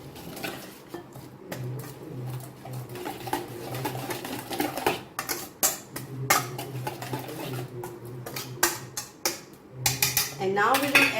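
A spoon clinking and scraping in a bowl while ginger garlic paste is stirred into a fish cutlet mixture, irregular metallic taps and scrapes over a low steady hum, close and moderately loud.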